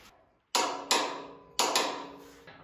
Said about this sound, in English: I'm going to torque all these bolts up to, well, the chart says that a half inch UNF bolt should be torqued up to about 105 pound.